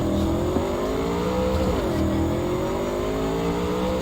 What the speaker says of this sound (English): so now I just took their cop car.